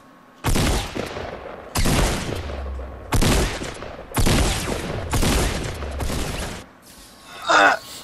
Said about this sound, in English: They both shotgunned you right there and then.